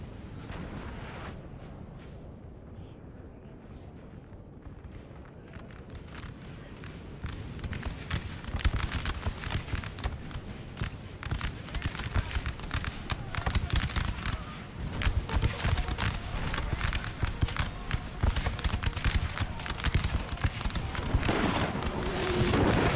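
Howitzer artillery in a Napoleon Total War battle, starting sparse and then building into a dense, continuous barrage of booming shots and crackling impacts that stays loud to the end.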